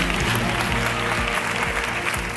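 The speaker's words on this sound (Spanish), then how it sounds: "Y un aplauso para él." Steady, dense applause from a studio audience for a guest on a televised talk programme, close and continuous throughout without any talk over it.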